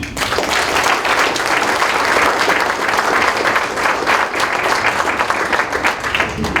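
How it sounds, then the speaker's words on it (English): Sustained applause from a large luncheon audience honoring school support-staff nominees, dense steady clapping that stays loud and even throughout with no speech over it. "Let's give a big round of applause for your nominees from elementary"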